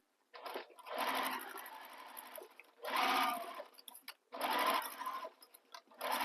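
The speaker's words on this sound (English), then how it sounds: "I'm sewing with my side panel against the bed of my machine" Sewing machine stitching around the edge of a bag's side panel along the seam allowance, running in three long bursts separated by brief pauses, close and steady with a fast mechanical whir.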